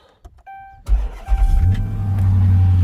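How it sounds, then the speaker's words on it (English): A stock car engine is cranked and catches, firing into a loud, close idle that settles into a steady rumble after a short electronic chime. "so I'll have to start the car"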